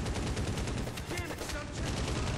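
Rapid automatic gunfire from the Medal of Honor Warfighter video game, a dense, loud, continuous burst of shots with a brief dip midway, then firing resumes with no talk over it.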